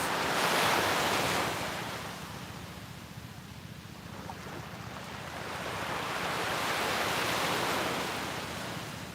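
Ocean waves at the beach roll in as a broad, steady rushing wash that swells, eases and surges again, loud and close with some wind buffeting and no voices.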